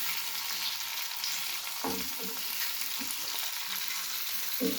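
Bitter gourd stir-frying in a heavy-bottomed pan, a steady close sizzle with scraping stir strokes and light clinks of the spatula against the metal, with no voices.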